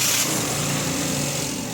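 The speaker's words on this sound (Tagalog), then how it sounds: "O, pa-start ko na itong makina." Toyota Wigo engine running after a start, being checked for weak acceleration and dashboard vibration, a steady close mechanical hum and whir that holds even throughout with no talking.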